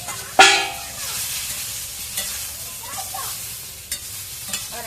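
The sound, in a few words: eggplant frying in a pan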